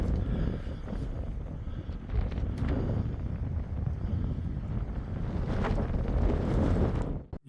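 Strong wind buffeting across an outdoor rifle range, a continuous loud rushing roar with gusty swells, close to the microphone, fading out abruptly at the end.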